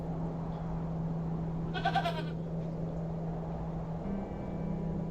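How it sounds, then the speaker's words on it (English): A single short goat bleat from a video game, wavering and nasal, rises briefly over a steady low hum and ambient background. "Oh, it's a goat!"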